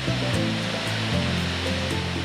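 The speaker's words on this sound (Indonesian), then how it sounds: "Air terjun dengan tinggi mencapai 100 meter ini nampak indah dikelilingi tebing batu di sisi kanan kirinya" The Kapas Biru waterfall, about 100 meters high, plunges between rock cliffs in a forest, making a loud, constant roar of falling water with no voices.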